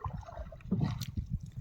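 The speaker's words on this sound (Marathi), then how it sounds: "एक वर्षाने होडी चालवतोय आणि एक्सपिरियन्स चांगला झाला होडी चालवायचा" A wooden boat rowed across water, with quiet, low sloshing and a few soft splashes from the oar strokes, the strongest around the middle.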